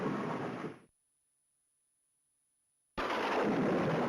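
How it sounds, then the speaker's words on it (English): A lightning bolt thunder effect from a video game on an old 486 PC crashes out as a loud rumbling roar, cuts to silence, then bursts back in full. "Lightning. Lightning bolt."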